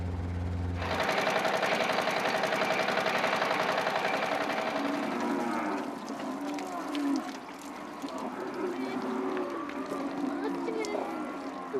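Cattle being mustered by helicopters into yards low and bellow amid a steady mechanical hum, with several moos layered over the herd's restless background noise.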